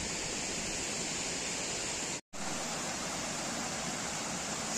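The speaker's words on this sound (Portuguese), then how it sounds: "E essa cachoeira secundária aqui, ó." A steady rushing of a secondary waterfall fills the scene, broad and even, with a brief dropout partway through.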